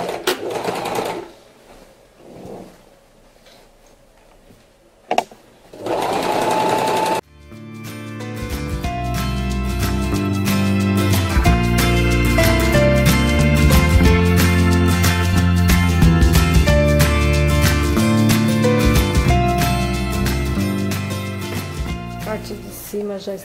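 A sewing machine topstitching a pair of shorts: a few short stitch bursts first, then a long steady whirring run at close range with a voice heard briefly early on.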